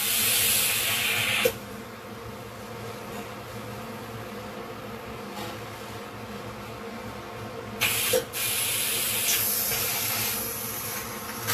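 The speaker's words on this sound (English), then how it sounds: "wait for the steam to exit completely." Steam hisses out steadily from a cooker while dry ginger coffee is made, a continuous broad hiss that rises into louder bursts near the start and again toward the end, close and without talk.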